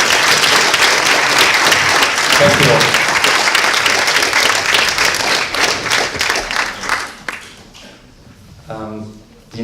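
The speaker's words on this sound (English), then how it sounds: "big applause for the International Jury of Cinéiste 2017" An award ceremony audience gives a loud, dense round of applause for the International Jury of Cinéiste 2017. The clapping thins out and fades after about seven seconds, then someone speaks briefly.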